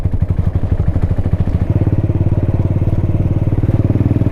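A motorcycle rides along a road in Nepal, its engine pulsing in a fast, steady loud thrum close to the mic that quickens and settles into an even drone.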